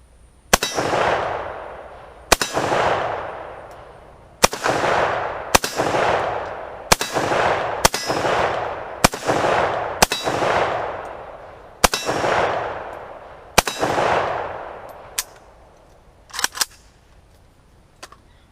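An AK rifle fires about ten loud, sharp shots outdoors at an irregular pace, each followed by a long rolling echo, with a few fainter clicks and pops at the end.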